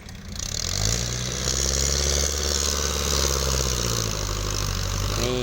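A powerful farm tractor engine runs close by with a steady, heavy low drone at idle and a slight shift in pitch near the end.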